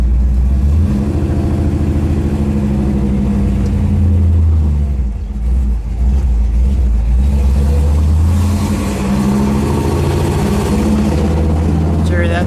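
A blue 1963 Chevrolet Impala hardtop with a 409 V8 idles with a deep, steady rumble close by, the engine rising slightly at moments while voices talk over it.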